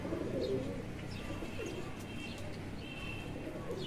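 Pigeons, including a white one, cooing and calling in a loud outdoor setting during a pigeon flying competition, with steady broadband background noise and brief chirps throughout.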